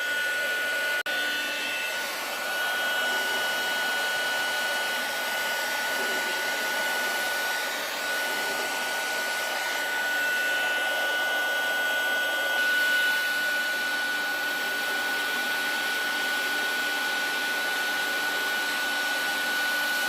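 A heat tool blows steadily for the full stretch, setting ink on a rope-rimmed gourd bowl: a continuous close, loud whooshing roar with a fixed high whine and only slight dips, no talking.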